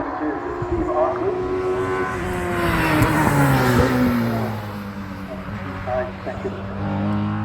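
A 240-horsepower number 9 sprint car at Knockhill Racing Circuit drives past. Its engine drones loudly and shifts in pitch as it passes, and voices talk over it.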